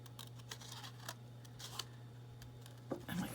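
Scissors snip paper for fussy cutting a craft project, a quick run of soft, close crisp cuts over a steady low hum, with a louder rustle of handling at the end.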